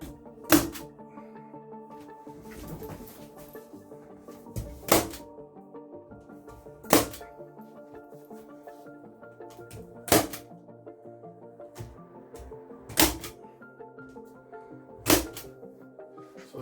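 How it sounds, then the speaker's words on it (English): A staple gun fires staples through corrugated plastic core flute sheet into a caravan's interior wall. About seven sharp, close thunks come at uneven intervals a few seconds apart, with quieter handling noise between shots. "So the staple gun will really help hold it in position."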